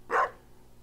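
A single short dog bark from Stardew Valley, one quick clear yap, fairly quiet and standing alone.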